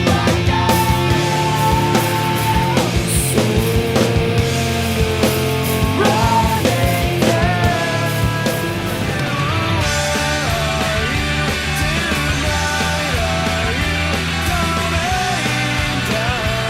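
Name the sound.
1985 emo punk song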